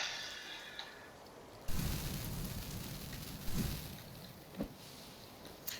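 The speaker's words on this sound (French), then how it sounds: "il commence à pleuvoir" Rain begins falling in the survival game The Forest, a steady broadband hiss that switches on abruptly and continues with a few soft thuds.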